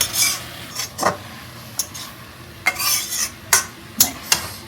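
Water spinach (kalmi shaak) being stirred in a frying pan, repeated scraping utensil strokes against the pan over a low sizzle, close and fairly loud, with no voices.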